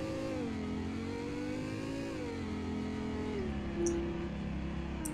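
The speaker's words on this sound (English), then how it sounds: "the LFA sounds like a trumpet times 3" A Lexus LFA with a titanium exhaust revs continuously, its bright trumpet-like engine note rising and dipping in pitch, heard close and steady with no talk.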